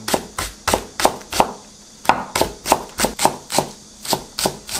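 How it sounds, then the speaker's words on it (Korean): A knife chops a single green onion on a cutting board in quick, even strokes, about a dozen crisp close knocks with brief pauses, no talking. "대파 한 대, 송송 썰게요."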